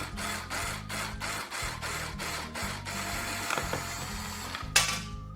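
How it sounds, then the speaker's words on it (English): A small electric screwdriver whirs in short repeated pulses with a mechanical ratcheting buzz while backing out a broken screw, close and fairly quiet, ending with a sharp click. "If it's too difficult, you can utilize a small electric screwdriver."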